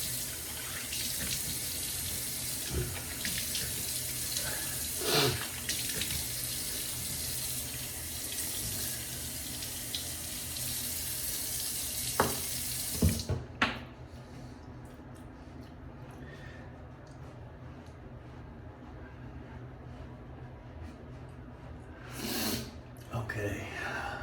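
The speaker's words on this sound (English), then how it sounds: "Let me rinse my face" A bathroom sink faucet runs steadily while someone rinses their face, with splashing and snorts over the hiss of water. The flow shuts off partway, leaving quiet room sound, a few drips and a brief later splash.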